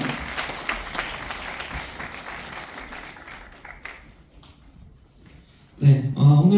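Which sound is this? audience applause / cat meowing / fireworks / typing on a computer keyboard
audience applause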